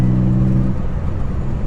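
Twin-turbo VG30DETT engine in a Mazda RX7, its exhaust a loud, steady low droning rumble with a gravelly edge, continuous throughout and without talk.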